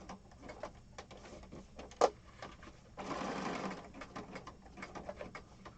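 A sewing machine stitches a junk journal cover on a small TV tray table, its rapid mechanical ticks running in quick bursts with one longer, denser run in the middle. There is a sharp click partway through and faint birds in the background.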